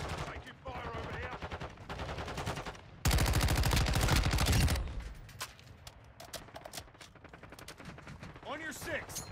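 Gunfire from a Call of Duty: Modern Warfare 2 team deathmatch, with rapid automatic bursts that peak in one loud, sustained volley midway, while shouted voices and other game sounds carry on around it.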